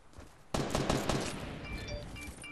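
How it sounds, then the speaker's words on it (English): A burst of rapid gunfire in the Fortnite video game erupts suddenly after a quiet moment, several quick shots in a row followed by a decaying tail, fairly faint overall. "Oh, I heard those gunshots from you."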